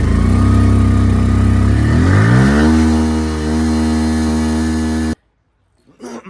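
A three-year-old motorcycle engine revs loudly up close, then settles into a steady droning idle before cutting out, followed by a few faint clinks.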